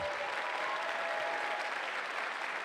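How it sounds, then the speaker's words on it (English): Even, sustained applause fills the hall at the 2013 CreaTiVe Awards ceremony, a steady crowd clapping heard from some distance at moderate level. "How about another round of applause for all those good folks?"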